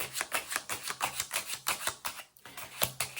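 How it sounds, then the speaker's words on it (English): Tarot cards riffle-shuffled in quick repeated bursts, about a dozen crisp rapid flutters in steady rhythm, close and fairly quiet with a short pause near the middle. "I am shuffling the cards live right now"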